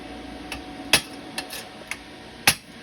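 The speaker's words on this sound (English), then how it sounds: "When everything else fails, use a hammer." Sharp metallic taps from a hammer on TIG-welded metal soccer ball pieces ring out irregularly, about six strikes with a couple of louder hits, against a quiet background.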